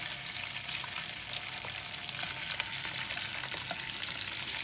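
Sausages sizzle and spatter steadily in a small frying pan, a continuous close crackle of hot oil with occasional sharper pops and no voices.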